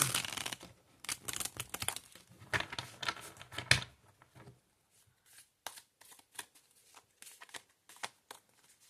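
Tarot cards being shuffled by hand in bursts of crisp riffling and slapping, close and quiet, with short pauses between shuffles and no talk.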